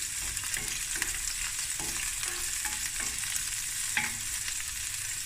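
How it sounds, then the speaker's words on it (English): Half a sliced onion frying in olive oil in a pan, a steady close sizzle with occasional stirring scrapes throughout, no talking. "I'm going to add half an onion sliced and just give this a quick fry"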